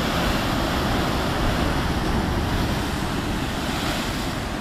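Ocean waves smash against the rocks at Peggys Cove, a steady, loud roar of surf and churning water with wind buffeting throughout and no voices.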